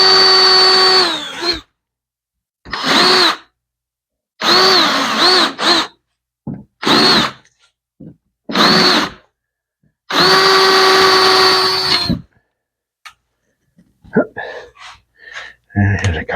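A power drill whirs in several bursts, long runs and short triggers with pauses between, close and loud, during boat seat wood lamination, followed by light clattering handling noises.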